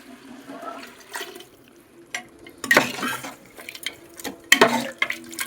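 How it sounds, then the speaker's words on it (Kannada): Water poured into a cooking pot while making village-style chicken biryani at home, heard as bursts of splashing and gushing near the microphone, loudest in two surges midway and near the end over quieter trickling. "ಇವಾಗ ನೀರು ಹಾಕ್ತಿದ್ದೀವಿ"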